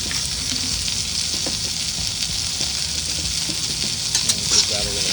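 Potatoes seasoned with black pepper fry in a pan, browning toward a crust: a steady, dense sizzle fills the clip, close and loud, with faint stirring scrapes and no voice.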